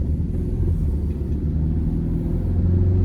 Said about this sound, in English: we're going to turn it around here and put our foot down